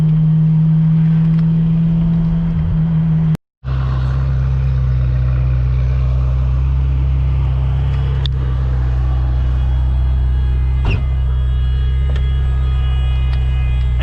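A Ferrari's high-revving, low-displacement engine holds a steady, loud droning hum while driving, drops out for a brief moment, then resumes with the same tone and road rumble.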